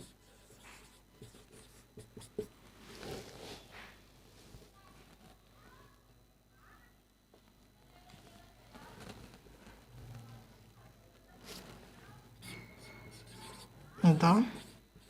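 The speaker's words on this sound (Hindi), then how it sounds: "एक एग्जांपल इधर लिखता हूँ" Scratchy strokes of an example being written on a board, intermittent rubbing bursts under a man's ongoing speech in a grammar lesson.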